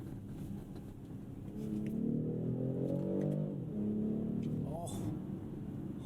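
A 2023 BMW X6 40i xDrive engine, heard from inside the cabin, rising in a steady rev as it accelerates after a downshift, then a brief gear change, with a driver talking over it.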